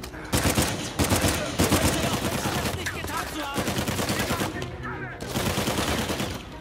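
Rapid sniper and automatic gunfire in Uncharted 4, a thief-themed action game, cracks in dense loud volleys across the whole stretch, with brief pauses between bursts of shots.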